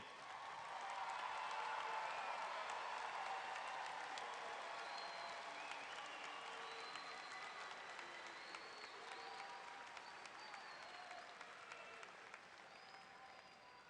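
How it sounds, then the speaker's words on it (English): At a 2018 high school graduation ceremony, a large crowd applauds parents and guardians with a long, even spread of clapping that sounds distant and quiet, slowly tapering toward the end. "please stand at this time while we applaud and honor you for helping our seniors get here today"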